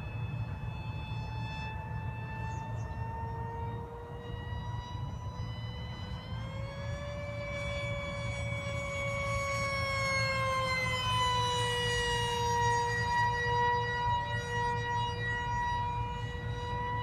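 RC MiG-29 model jet at full throttle making a loud, sustained high-pitched whine whose pitch rises and bends as it passes, steady over a low rumble with no talk.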